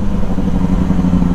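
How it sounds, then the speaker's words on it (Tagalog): A Kawasaki ZX25R revs loudly up close, a dense high-pitched four-cylinder buzz holding steady through a clutchless quick-shift upshift. "Sa quick shift naman, kapag mag-change ka ng gear pataas, hindi mo na kailangan gamitan ng clutch."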